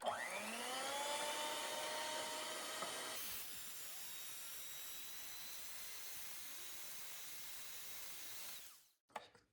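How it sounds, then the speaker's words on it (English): A hand mixer whisks egg whites on high speed for a soufflé cheesecake meringue, a steady whirring motor whine that drops in pitch partway through, runs evenly, then cuts off near the end. "whisk the egg whites using a hand mixer on high speed"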